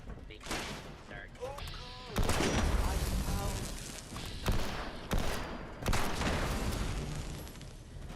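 Gunfire in Fallout 76: several loud bursts of rapid shots separated by short pauses, with someone talking between and over them.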